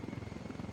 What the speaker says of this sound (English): there's another helicopter down there